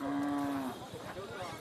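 A bull lows once at a cattle market, a loud sustained moo lasting about two-thirds of a second, followed by busy market background with indistinct voices.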